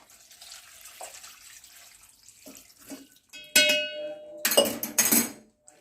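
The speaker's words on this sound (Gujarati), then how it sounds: "એને એક કાણાવાળી ચાળણીમાં કાઢી અને એના ઉપર તરત ઠંડુ પાણી નાખી દેવાનું।" Cold tap water poured over freshly boiled pasta in a perforated colander, with loud bursts of splashing and metallic clinks near the end after quieter handling sounds.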